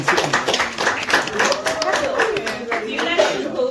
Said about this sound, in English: A round of applause for a winner.